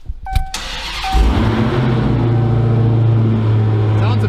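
A Dodge Hellcat fitted with a cold air intake fires up after a few clicks, settling into a loud, deep, steady idle rumble close by.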